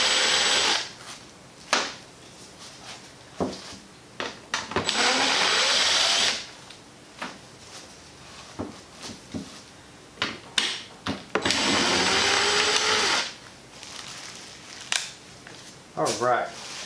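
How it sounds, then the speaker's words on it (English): Power drill driving screws into an aftermarket intake assembly for a Chevrolet SS 1LE, heard as repeated short whirring bursts and a few longer sustained runs, with handling clatter between them. "If you are not a gentle person with a drill, I highly recommend that you use a screwdriver for this part."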